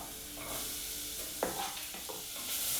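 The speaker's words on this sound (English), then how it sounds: "Just going to stir that around a little bit." A spoon stirs baked beans and spices in a hot pan, a soft scrape and a few clinks over a steady low sizzle, close and quiet.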